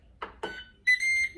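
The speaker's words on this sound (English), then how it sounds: "So I'm gonna preheat the air fryer." Air fryer being set to preheat: two short button taps followed by a sustained electronic beep tone, close and clear in a quiet kitchen.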